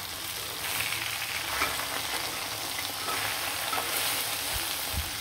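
River fish sizzles in a pan of hot oil, a steady close crackle that runs without pause and carries faint stirring.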